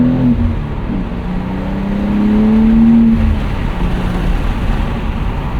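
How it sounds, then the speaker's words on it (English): Engine of a 2025 BMW M2 with the 473 hp six-speed manual, revs rising and holding steady as auto rev-matching blips for the next gear during a gentle upshift, heard from inside the cabin as a low continuous drone with no talk. "if you go for a granny shift, like I just did, it will make sure the revs stay correct for the next gear"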